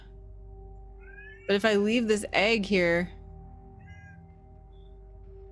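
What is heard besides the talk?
pet cat meowing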